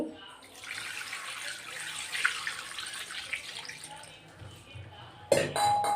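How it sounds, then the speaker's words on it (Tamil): Mackerel fish being rinsed under running tap water in a kitchen while preparing fish curry, a steady rushing stream with faint splashing, joined near the end by a brief clatter and a sharper tone. "இந்த தண்ணியில் அலசியாச்சு இப்போ நல்ல தண்ணி கொஞ்சம் ஊற்றி அலசிக்கலாங்க"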